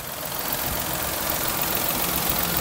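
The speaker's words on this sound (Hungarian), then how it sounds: "a motorja pedig nagyon csendesen cicereg" A Daihatsu Sirion 1.0 4WD with a three-cylinder engine idles quietly and steadily, a close, even hum with no speech.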